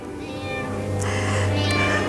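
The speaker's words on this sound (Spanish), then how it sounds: "Pobrecito mi gato Lucifer." A cat meows in a stage production of The Wizard of Oz, the cry held and wavering over a steady low hum of the theatre sound system, loud and close throughout.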